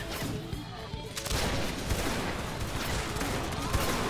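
A volley of rifle fire in a multiplayer war video game, a dense ragged crackle of many shots breaking out together and rolling on, loud and continuous after a shouted command.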